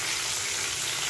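A brief, steady sizzle of chopped tomato and green chilli frying with onion in a pan, close and moderately loud, with no voices.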